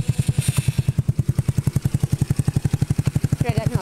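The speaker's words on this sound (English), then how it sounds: "Here's what it sounds like with a performance muffler." A go-kart engine fitted with a performance muffler idles with a deep, rapid, even thumping exhaust beat, steady and close throughout.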